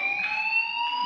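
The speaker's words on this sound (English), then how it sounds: "do you hear that fire alarm?" Fire alarm in the video game Life is Strange, a loud, steady electronic tone with stacked harmonics sounding continuously and close, alone without talk.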